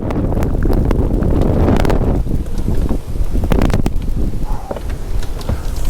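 Strong, cold Arctic wind gusting around 40 miles an hour at about 10 degrees outdoors, roaring loudly and buffeting the microphone in a continuous rumbling rush, with no voices.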